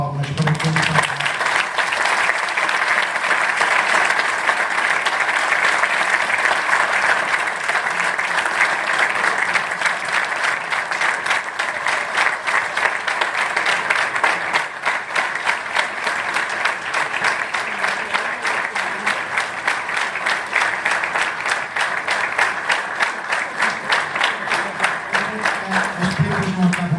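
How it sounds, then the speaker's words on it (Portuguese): Sustained applause from a large crowd at a FC Porto club-day ceremony, steady and dense for the whole stretch, with a few voices calling out beneath it. "peço uma salva de palmas para todos"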